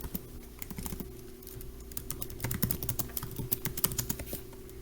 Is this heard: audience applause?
no